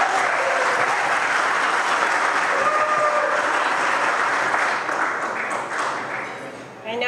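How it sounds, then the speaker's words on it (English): A large gala audience applauds a speaker being introduced, dense sustained clapping that fills the room loudly for several seconds before tapering off near the end. "it is with a great round of applause that I ask all of you to give"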